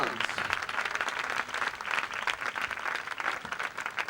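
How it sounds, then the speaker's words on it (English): Applause for the Gibraltar Academy of Dance at the Miss Gibraltar 2008 pageant: a crowd claps steadily and fairly loudly all the way through, with a voice speaking faintly beneath it. "big round of applause for the Gibraltar Academy of Dance"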